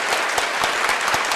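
A crowd of townspeople claps steadily at a police captain's funeral procession as the coffin is removed, a brief burst of dense, fairly close applause.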